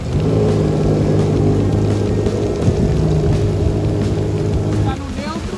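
A 2021 Yamaha VX Cruiser HO jet ski roars steadily under power, its engine droning loud and close before the pitch drops away near the end.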